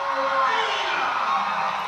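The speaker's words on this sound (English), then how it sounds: "And the crowd is getting in it. They're excited." A crowd at a gymnastics meet in Barnhill Arena cheers and whoops in a sustained, loud roar that fills the space from start to finish, with a voice faintly audible over it.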